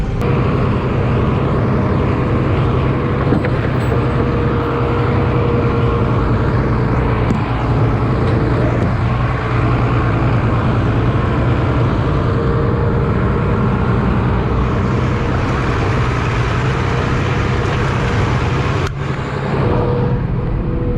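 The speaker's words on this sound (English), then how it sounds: "What I like doing is actually driving over them." A vehicle drives on a farm over the outstretched legs of a portable cattle windbreak, giving a loud, steady, close engine and tyre rumble that holds unbroken for the whole stretch with no voices.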